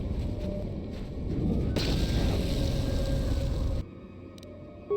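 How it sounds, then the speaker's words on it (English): A sabotaged generator explodes in Star Wars: Knights of the Old Republic II – The Sith Lords, a loud roaring blast that swells and holds for about two seconds, then cuts to quieter hum with a brief click. "Rewire the generator circuitry to cause it to explode."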